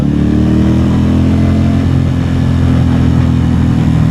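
A Victoria Simplee V70 Border Cruise Edition motorcycle engine runs loud and close, a steady throaty drone that rises slightly at the start and holds its pitch throughout, with no talking.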